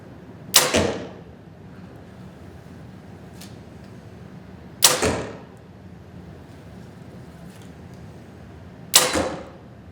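Three sharp arrow releases from a Mission Switch compound bow fired through a chronograph, each a loud crisp snap with a short decaying twang, spaced about four seconds apart over a quiet background.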